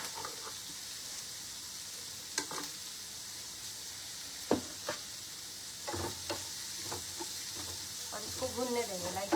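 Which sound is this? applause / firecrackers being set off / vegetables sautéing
vegetables sautéing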